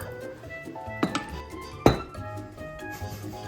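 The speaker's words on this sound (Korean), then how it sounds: "이제 밀가루를 여러 번에 나눠서 넣으면서 잘 섞어줍니다." Flour is stirred a little at a time into a cooled butter and beaten egg mixture in a bowl, bringing soft scraping and two sharp clinks of a utensil against the bowl.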